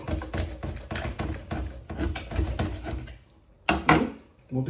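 A knife works through a whole raw chicken laid breast-down, cutting along its back: a quick series of rough, scraping chops and rasps on a board, then a pause and a few sharper cuts, close and alone.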